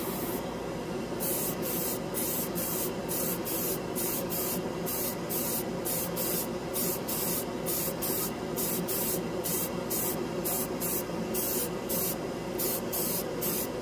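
An airbrush with a 0.3 needle sprays red ChromaAir model paint, thinned at about 70 to 30, in a steady close hiss with rapid rhythmic pulses of spray running throughout.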